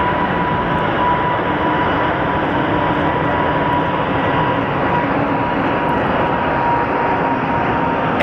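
A jet airliner roars steadily at Sky Harbor Airport in Phoenix, a loud, constant broadband engine rumble filling the whole stretch as it passes close by, with no voices.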